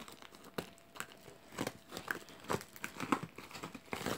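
Plastic packaging around a 15-inch Jazwares Classic Sonic plush is handled and opened up close, with irregular crinkling and crackling rustles and sharp little ticks scattered throughout, no voices.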